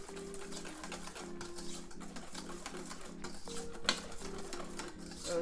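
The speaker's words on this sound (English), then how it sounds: "Keep whisking." Milk being whisked into a trifle custard mixture, a steady rhythmic tapping and scraping of a whisk against a bowl that repeats about twice per second throughout, fairly quiet and heard alone.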